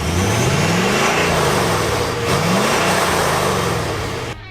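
A Ford Super Duty pickup's 6.7-liter Power Stroke diesel revs loud and close, its pitch sweeping up and down in repeated rises before easing off at the end.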